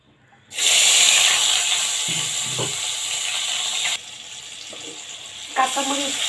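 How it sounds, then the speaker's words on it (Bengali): Green chillies, onion and garlic hit hot oil with a sudden loud sizzle and hiss that settles into steady frying, dropping in level partway through, with a voice speaking briefly near the end. "কাঁচামরিচ, পেঁয়াজ, রসুন হালকা করে ভেজে নেব"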